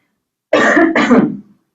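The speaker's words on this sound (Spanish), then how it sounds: "perdón que me dio un poquito de carraspera aquí" Two quick, harsh throat clearings sound close up, one right after the other, with silence before.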